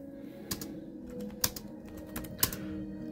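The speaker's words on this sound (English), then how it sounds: "I'm writing with a keyboard" Keys clatter on a computer keyboard in a steady run of close, light clicks, with a few sharper, louder strikes standing out against a constant low hum.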